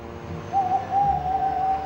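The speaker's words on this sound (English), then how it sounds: "An owl, said Monty." An owl hoots in spooky woods with a steady, sustained call, moderately near over a faint low rumble of the night forest, with no voices.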